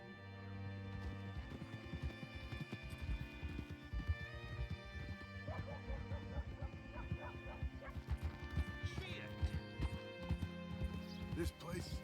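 Horse hooves clip-clopping in Red Dead Redemption 2, a steady close rhythm of hoofbeats running the whole time, mixed with game music, a dog's barks and yips, and someone talking over it.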